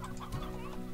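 Chickens cluck softly in the Slime Rancher video game, a steady low clucking that runs through the whole short moment with no one speaking.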